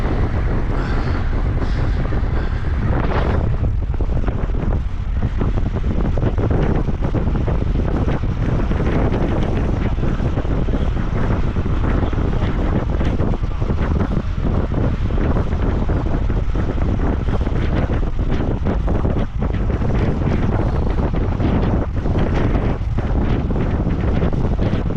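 Strong headwind buffets the microphone in loud, continuous rumbling gusts on the water during a rowing race at Reading on the home stretch toward the finish, with no voices over it.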